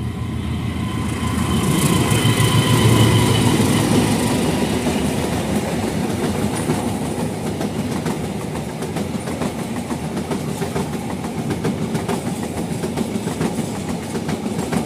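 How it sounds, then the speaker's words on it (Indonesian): A passenger train on an Indonesian railway line passes by in the rain, a loud sustained rumble with rhythmic clickety-clack of wheels over rail joints, swelling early and then staying steady. "Bro, kereta api Cukurai sudah melintas."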